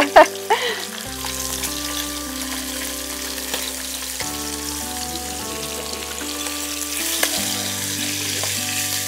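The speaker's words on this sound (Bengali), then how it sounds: "মাছটা প্রায় ভাজা হয়ে গেছে, কিন্তু বেশি ভাজার দরকার নেই" Hilsa fish sizzles steadily in a pan of hot oil, a close, continuous crackle with a few louder spits near the start and no voices over it.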